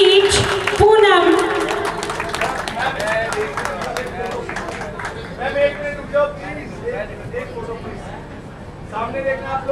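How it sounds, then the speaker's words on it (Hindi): An audience claps at a prize distribution ceremony for a singing competition, a steady patter of many hands that runs the whole stretch while a voice and some music-like tones carry over it. "जोरदार तालियों के बीच पूनम"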